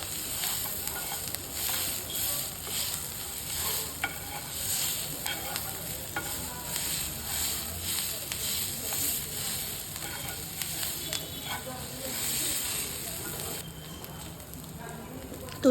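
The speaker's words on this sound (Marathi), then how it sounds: "आता हे परत चांगलं परतायचं आहे." Green chillies and curry leaves stir-fried in a pan for Kolhapuri mirchi thecha give a continuous close sizzle, with the scrape of a spoon stirring at a regular pace and occasional speech over it.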